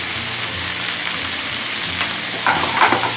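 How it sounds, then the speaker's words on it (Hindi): Capsicum paneer masala frying in a pan as spices such as red chilli powder and kasuri methi are stirred in, giving a steady close sizzle with scraping stirs growing busier toward the end. "सारी चीज़ों को मिक्स कर लेते हैं"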